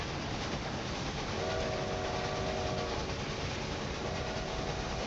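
Trains run in the video game Railway Empire 2: a dense, steady rolling rumble fills the whole stretch, with sustained horn tones rising over it midway and again near the end.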